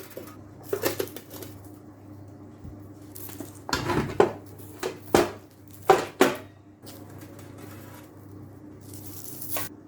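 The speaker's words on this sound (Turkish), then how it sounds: "Bir tepsinin arkasına ters çeviriyorum." Metal trays clank and bang sharply as a baked tray of kadayif is flipped onto the back of another metal tray in a kitchen, several close, loud knocks with quieter rustling between them and no speech.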